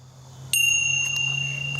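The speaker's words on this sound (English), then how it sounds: "Going to ring the bells." A single bright bell strike rings out after a brief quiet lead-in, its clear metallic tone sustaining and slowly fading.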